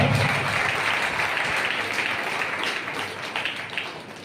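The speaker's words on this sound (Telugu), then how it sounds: "చప్పట్లు కొట్టండి ప్రక్కలు గట్టిగా" Audience applause at a Christian sermon about William Carey, a dense, steady wash of many hands clapping that carries on for the whole stretch and eases off slightly toward the end.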